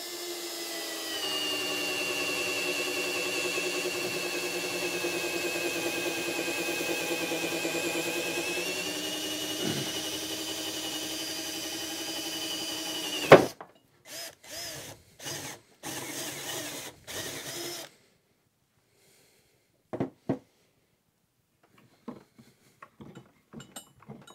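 A hammer drill runs steadily and loudly for about thirteen seconds, then stops, followed by a series of short bursts and a few brief whirs.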